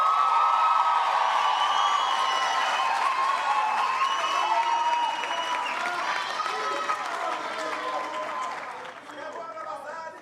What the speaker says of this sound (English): Can we give a round of applause to parents?